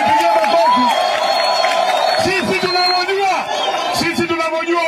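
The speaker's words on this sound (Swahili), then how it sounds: "Mujipigie makofi." At a political rally in Kondele, Kisumu, a large crowd cheers and claps in a loud, continuous roar while a speaker's amplified voice rises above the din.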